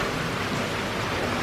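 Steady heavy rain falling during Tropical Depression Imelda, a dense, even hiss of drops on surfaces that stays close and unbroken with no voices.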